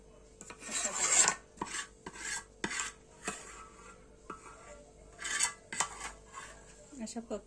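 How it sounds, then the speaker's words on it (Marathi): Jaggery is worked into a dry fruit laddu mixture in a bowl, making close, dry rasping and scraping strokes that come in short repeated bursts, with light clinks of utensil against the bowl and no talking. "अशा प्रकारे आपल्याला गूळ ऍड करून घ्यायचा आहे"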